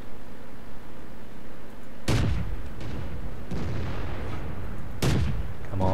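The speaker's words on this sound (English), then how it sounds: "This gun's good at firing on the move." Two heavy booming tank gun shots fired on the move in World of Tanks, each a sharp loud blast with a rumbling tail, spaced about three seconds apart over a steady engine drone.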